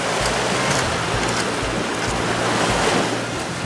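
Sea waves surge and crash against coastal rocks on a windy winter island shore, a loud, continuous roar of churning surf with wind buffeting the microphone and no voices.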